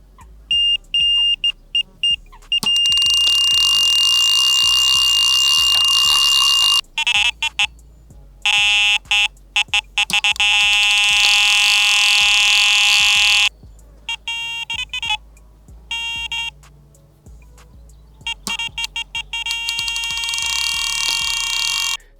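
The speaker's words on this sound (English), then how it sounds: "have a sample of some of the sounds that might come from these alarms if you were to buy them" A Wolf Icon Q fishing bite alarm beeps loudly in repeated bursts and sustained tones, switching between different pitch settings, with short silent gaps between runs.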